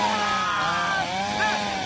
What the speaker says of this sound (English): I told you to lose that chainsaw.